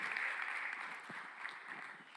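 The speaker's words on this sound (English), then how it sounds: "a huge round of applause for him" Seminar audience applauding in a hall, a faint, distant, even patter of many hands that holds steady for a couple of seconds.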